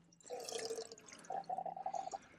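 Water runs from a campsite tap at Dixon Lake in Escondido, California, pouring and splashing into a container in two bursts with a brief pause between them, moderately loud and close.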